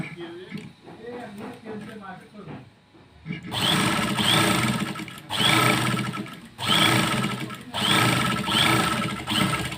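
A sewing machine stitches the fly of a pair of pants in rapid bursts of close, loud whirring, several runs separated by short pauses, after an opening stretch of speech.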